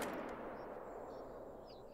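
A single .243 rifle shot fired at a bison in The Hunter: Call of the Wild, a sharp crack at the start followed by a long fading rumble across open terrain, fairly quiet overall.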